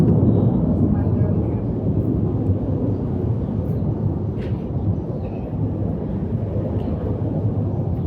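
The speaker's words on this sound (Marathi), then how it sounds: "एक तर विमान चालू आहे वरून" An airplane drones overhead as a loud, continuous low rumble that fills the whole stretch and masks any speech.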